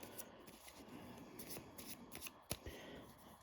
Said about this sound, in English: We'll start off by shuffling them up.